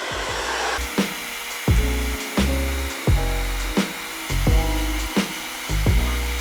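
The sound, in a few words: hair dryer blowing on cool setting over wig lace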